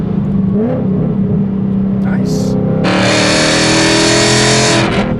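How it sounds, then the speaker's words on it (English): A 2019 Ford Mustang GT with the Coyote V8 rumbles, then surges into a loud, sustained rev and acceleration roar over the last two seconds, with a person talking briefly during it. "I just love the pickup and go that this engine provides."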